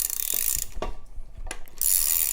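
A ratchet with a 10 mm socket works a strut nut during a strut mount replacement on a 2011-2019 Ford Explorer, giving bursts of close, crisp pawl clicking with short pauses between strokes.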